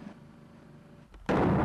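A sudden loud blast strikes an office during a blast test on a wall coated with Paxcon polyurea, cutting in abruptly after quiet room tone and holding as a broad roar.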